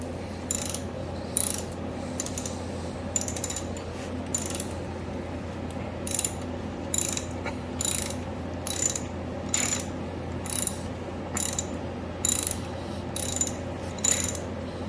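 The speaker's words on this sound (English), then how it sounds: "So we undo this 14 millimeter bolt." A ratchet wrench loosens a 14 mm bolt on a 1971 Yamaha RT1B 360 motorcycle under restoration, clicking in steady short bursts roughly every second. The clicks are close and distinct over a low hum, with no talking.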